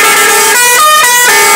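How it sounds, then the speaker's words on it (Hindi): Loud, close car horns honk in overlapping blasts on a busy road near a market, with steady traffic roar underneath and no talking. "गाड़ी का ही ज़्यादा आवाज आता है क्योंकि हम रोड पर"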